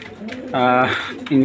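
Racing pigeons coo close by, giving throaty, rolling calls that swell in the middle and rise again at the end.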